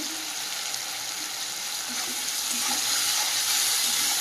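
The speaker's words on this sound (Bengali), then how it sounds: "মশলাটাকে ভালোভাবে কষিয়ে নেব" Ground coriander, cumin and salt fry with potato curry in a pan, a dense, continuous close sizzle that grows slightly louder toward the end, with faint stirring underneath.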